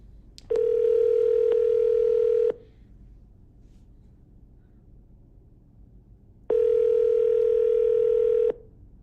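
Telephone call placed for a call-in show caller: two long steady ringback tones separated by a pause of near silence, clear and even in level, with no talking.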